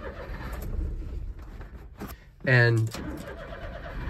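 Daihatsu Hijet mini truck engine cranking and catching, a brief loud burst midway after a few clicks, with someone talking before and after.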